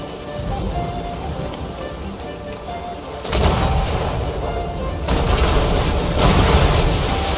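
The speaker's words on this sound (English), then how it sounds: "Oh, I have one thing shooting at me right here" Gunfire aimed at the player in ARK: Survival Ascended, heard as heavy booming bursts over a steady rain-like background, with two strong volleys arriving in the second half.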